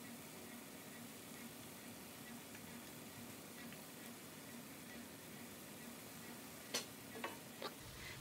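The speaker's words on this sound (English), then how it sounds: "we're cooking down our bell peppers and our onions and our delicious garlic, building flavors" Bell peppers, onions and garlic sizzle quietly in a pan over beef juices for beef stroganoff, a soft steady hiss with a few sharp scraping clicks near the end.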